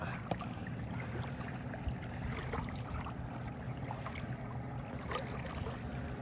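A motorboat with a reversed thrust washer at the propeller being backed out on Lake Champlain, heard as a low, even engine rumble with faint water splashing throughout and no voices.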